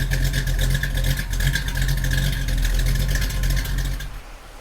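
Plymouth GTX muscle car engine, a deep bassy rumble with a throaty mid-range growl held steady for several seconds, then fading away.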